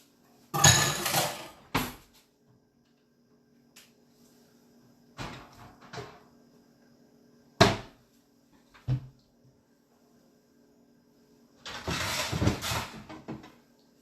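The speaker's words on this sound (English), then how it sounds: "let me clear some of these dishes" Dishes being cleared in a home kitchen while preparing a bruschetta appetizer: scattered clatters and knocks of plates and pans, several sharp bangs of a cupboard or drawer, with quiet gaps between bursts and no talking.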